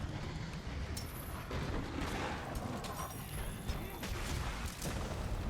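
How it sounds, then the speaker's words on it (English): Gunlance explosion attacks in Monster Hunter World form a dense run of booming blasts with crackling, metallic impact noise. The sound is loud and continuous throughout, with no talk over it. "You then do your explosion."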